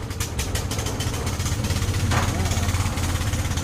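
A homemade drum-built engine driving a water sprinkler on a coconut farm in Thailand chugs steadily up close, a loud, rapid rhythmic pulse held throughout.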